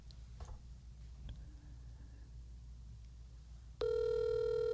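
After a star code is dialed on a telephone, a short stretch of quiet room hiss with a few faint ticks gives way to a loud, steady electronic ring tone that starts abruptly near the end and holds.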